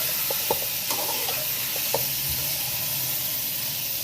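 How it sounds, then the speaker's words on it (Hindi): Potatoes frying in hot oil in a pan, a steady close sizzle and hiss with a few soft clicks of stirring, no talking. "अब इसको अच्छी तरह फ्राई कर लेंगे तेल में"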